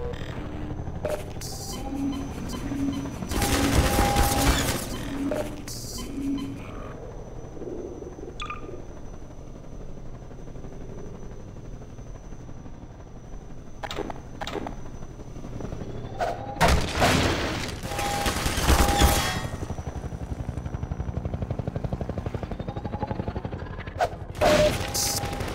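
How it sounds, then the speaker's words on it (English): Bursts of rapid gunfire and booming blasts from a helicopter battle in the PC game Half-Life 2, loud and close, with two heavy volleys separated by a stretch of quieter rumbling action. "I think this is a showdown with the helicopter."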